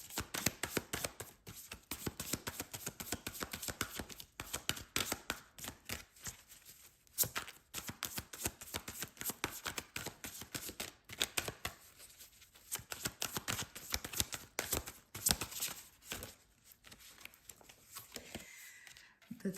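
Tarot cards are shuffled close by, a quiet, rapid flutter of riffles and slaps that comes and goes in bursts with brief pauses.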